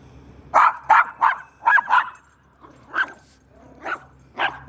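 A dog barks in a quick run of sharp, close yaps, pauses, then gives a few more spaced barks, loud and alone with faint background hum.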